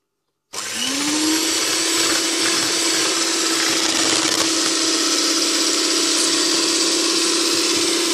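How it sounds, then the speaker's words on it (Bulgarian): An electric hand mixer beats eggs for chocolate muffins, starting abruptly and spinning up to a steady, loud motor whine with a buzzing edge that holds evenly throughout, with no talk. "сега разбих яйцето с малка бъркалка, но сега ще продължа с миксер."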